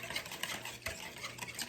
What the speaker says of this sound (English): we're going to whisk this up